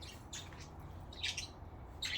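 Pet budgies chirp and squawk in three short, bright bursts separated by brief pauses, moderately faint, over a low room hum.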